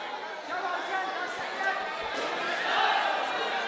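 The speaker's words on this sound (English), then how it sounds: "The crowd is so into this." A crowd at an MMA fight event in Pakistan keeps up a steady roar of chatter and cheering, moderately loud and continuous, swelling slightly toward the end.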